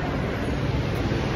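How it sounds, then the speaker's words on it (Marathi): A mountain river rushes along the Gaurikund to Kedarnath trekking trail, a dense, continuous roar of fast water heard up close with no other sounds standing out. "नदी लागली आपल्याला."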